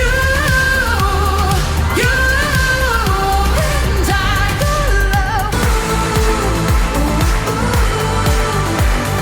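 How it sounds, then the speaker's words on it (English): Loud, dense pop track with punchy synth beat, heavy bass and soaring vocal runs over layered production. "It's a bombastic song with a chorus based on a few vocal runs"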